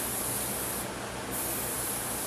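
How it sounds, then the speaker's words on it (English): Cooking spray misted onto a pork tenderloin in a kitchen: a steady, close, broadband hiss that runs for the whole stretch with no voices over it. "It also wouldn't hurt to spray your pork with a little cooking spray either."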